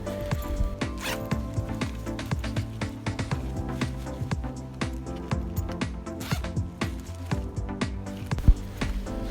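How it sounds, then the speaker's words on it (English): A zipper on a messenger bag rasps back and forth again and again in quick, close, crisp strokes, with light handling rustles between pulls and no talking. "the zip quality is also very good"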